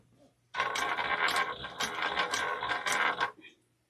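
A sewing machine stitches in a close, rapid mechanical run of about three seconds. It clatters rhythmically before stopping, with a short faint tail after it.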